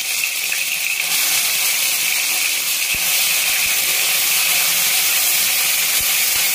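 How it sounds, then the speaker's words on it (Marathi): Onion dropped into hot oil in a pan for a gravy, a steady bright sizzle that stays loud and even from start to finish, with a few faint clicks and no talking. "तेल गरम झालेलं आहे. तर आता याच्यामध्ये कांदा टाकून घेते मी."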